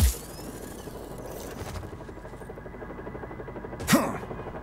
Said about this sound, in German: Fliege den Helikopter.